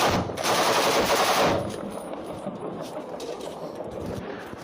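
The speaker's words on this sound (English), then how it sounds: "What kind of gun is that? It's a high rate of fire on that. That thing is called a PKP." A PKP machine gun firing at a high rate in wartime combat, one loud rapid burst followed by quieter distant rattling and echoing gunfire.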